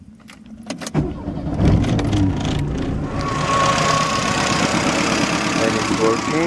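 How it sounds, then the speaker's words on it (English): A car engine, connected to its battery through a 125 amp jumper cable, cranks with a few clicks and a rising churn, then catches and settles into a steady, close idle. "I will start the engine now"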